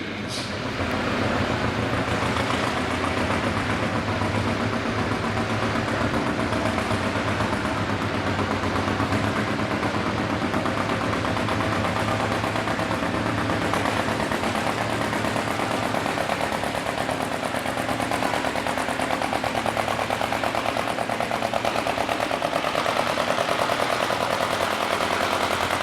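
Classic tractor at a tractor pull, its engine roaring loud and continuous through the whole run with a steady heavy drone and rough mechanical clatter, no voices over it.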